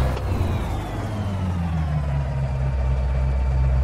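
Kenworth W900 with a Cat V12 engine pulling a light trailer in American Truck Simulator, a deep steady engine drone that slowly rises in pitch as it revs, close and continuous with no talking.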